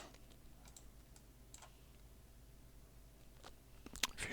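Someone types on a computer keyboard while working in Linux Mint 22 MATE beta, with soft, irregular key taps throughout and a louder burst of clicks at the end, with no talking.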